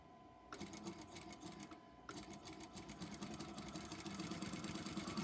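A sewing machine stitches a corner seam across a quilt block, running in a fast, steady mechanical whir that pauses briefly and then continues, close and loud with no voices.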